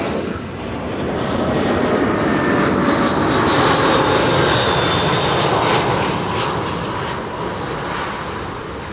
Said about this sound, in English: KLM flight 1918 arriving from Zurich.